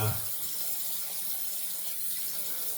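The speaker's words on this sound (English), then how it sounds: "we'll just wet our face with hot water" Hot water runs steadily from a tap into a sink while a face is wetted before a shave, a continuous close hiss with a brief louder splash at the start.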